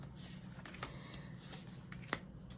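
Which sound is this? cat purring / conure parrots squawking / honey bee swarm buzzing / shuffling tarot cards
shuffling tarot cards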